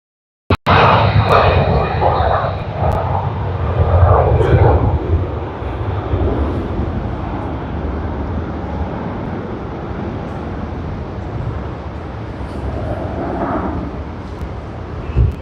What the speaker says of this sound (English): And China Eastern Airlines Airbus A330.